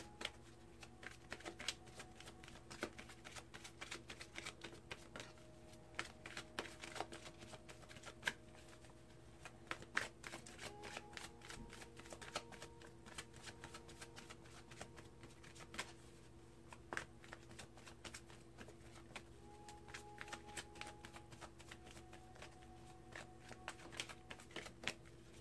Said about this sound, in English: And I'm going to pull some oracle cards.